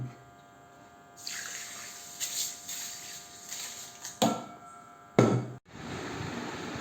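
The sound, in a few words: pouring water onto rice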